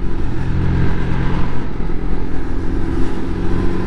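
Lexmoto RSS Street 125cc motorcycle engine dropping down through the gears, a steady loud mid-range drone with slight shifts in pitch as it slows, heard up close while riding, with no talk.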